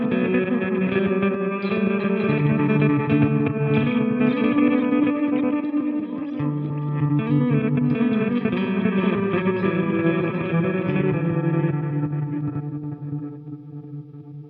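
An electric guitar runs through a Walrus Fable ambient pedal on program 1, producing a loud, lush wash of sustained chorused and distorted chords that drift and slowly fade, with no talk.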